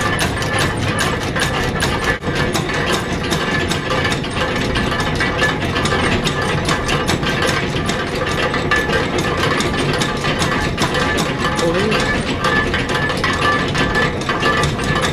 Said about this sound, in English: It goes through 3 lots of grinding.